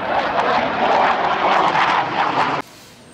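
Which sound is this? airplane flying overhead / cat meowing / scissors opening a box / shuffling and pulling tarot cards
airplane flying overhead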